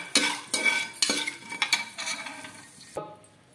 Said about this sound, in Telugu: కుక్కర్లో ఆయిల్ వేసుకొని బాగా కాగాక మసాలా దినుసులు వేసుకోవాలి. వీటిని బాగా ఫ్రై చేసుకోవాలి.